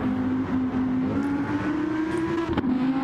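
Green BMW DTM race car on its penultimate lap in a sim racing game, engine held at a steady high drone with a brief sharp upshift or blip near the end, close and continuous.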